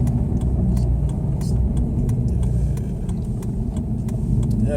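A 5.7-litre V8 car engine runs steadily while driving, a loud, continuous low rumble with faint clicks and knocks over it, no voices.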